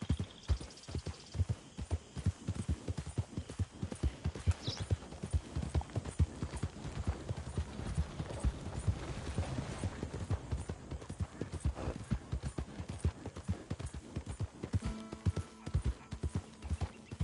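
Hooves of a horse in Red Dead Redemption 2 clop in a fast, steady galloping rhythm, loud and close throughout, with a brief whinny-like tone and faint game ambience but no talk.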